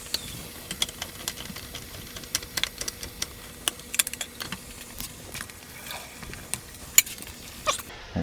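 Ackee and saltfish being gently folded in a small pan: soft, irregular scraping and clicking strokes from a utensil over a faint low sizzle, no talk.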